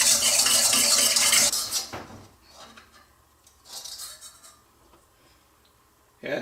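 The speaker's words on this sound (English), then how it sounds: "Adding our bread flour and stirring that down." A spoon scrapes and clanks against a bowl while bread flour is stirred into no-knead Cuban bread dough: a loud burst of mixing at first, then a few softer scrapes and a final knock.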